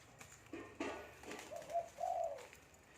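Doves kept in cages, caught from the wild, give soft cooing calls, a few low rounded coos rising near the end, faint and fairly close against quiet background rustle.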